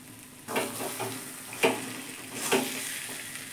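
Grated potato with salt, sugar and spices being stir-fried in a pan: a steady low sizzle broken by a few sharp scrapes of the spoon, close by, with no talking.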